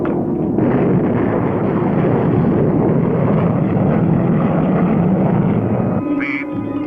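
A spaceship rocket engine roaring in a cartoon: a loud, constant rushing roar that holds steady for about six seconds, then shifts to a brief tonal squeal and sputter at the end.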